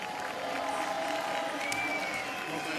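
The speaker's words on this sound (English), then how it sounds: "Listen to that crowd for the French rider" A large crowd cheers and applauds for French BMX rider Anthony Jean-Jean after his freestyle park final run at FISE Montpellier, a steady wash of distant roaring and clapping filling the whole stretch.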